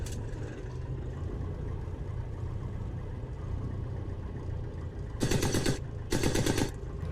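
The twin machine guns of a Fokker Dr.1 triplane fire in Microsoft Flight Simulator 2020. Two short, sharp bursts cut over the steady drone of the idling engine near the end.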